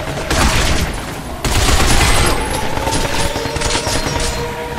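Rapid gunfire aimed at robots in the video game Binary Domain, a loud, dense fusillade of overlapping shots and booms that continues without a break.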